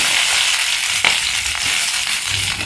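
Garlic, ginger and onion fry in oil in a kadai for mint chutney, giving a steady, dense, close sizzle throughout with a few faint stirring knocks.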